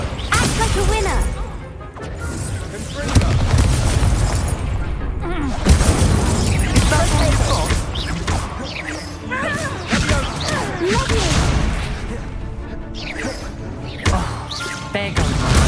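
Confringo fire spell explosions in Hogwarts Legacy, repeated booming blasts and crashes in dense combat, loud and continuous, with a voice shouting over them at times.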